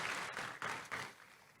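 Audience applause for Jesus in a church service: a brief, soft stretch of steady clapping from the congregation that swells slightly and then tapers off.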